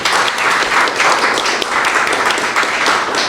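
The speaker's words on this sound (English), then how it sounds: "Put your hands together for them." An audience applauds at a high school debate competition, with dense, steady clapping throughout the short stretch.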